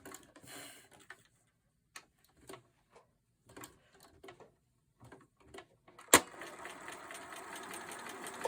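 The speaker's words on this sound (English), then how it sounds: "Once again, I'm doing the back and forth stitching." A sewing machine does back-and-forth stitching while sewing a pin cushion, heard as a series of short, faint mechanical bursts with pauses between them, followed by a louder sustained whir near the end.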